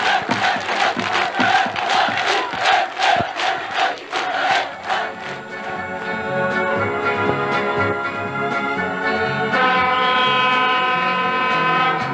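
A large crowd cheers and chants in rhythmic bursts at a 1987 railway line inauguration in Albania, then gives way to a train's sustained horn-like tones and rumbling movement.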